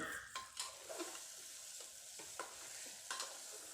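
Fried masala with eggplant and chana dal being stirred in a pan, a steady sizzle broken by repeated scraping strokes of a spoon, close and fairly quiet, no talking.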